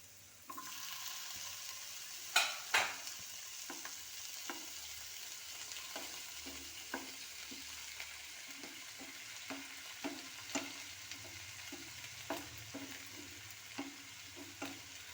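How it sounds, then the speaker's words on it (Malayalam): Onion and tomato fry and sizzle in a pan under steady stirring, with a constant crackle broken by a run of soft spatula scrapes and taps and a few sharper clinks near the start; no one speaks. "ഇങ്ങനെ ഇളക്കിക്കൊണ്ടിരിക്കുക സവാള ഒരു അര പരുവ വഴണ്ട് വന്നിട്ടുണ്ട്"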